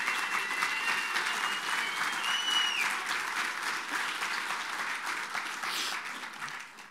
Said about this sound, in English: we're going to give her a round of applause anyway.